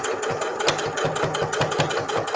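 A sewing machine edge stitching fabric for a microwaveable mug cozy, running in a fast even rhythmic chatter of needle strokes, close and steady with no talk.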